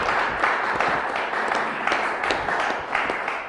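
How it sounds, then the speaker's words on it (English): An audience at a local government briefing gives a steady round of applause, dense clapping that holds at an even level throughout with no voices over it. "Let's give them a round of applause."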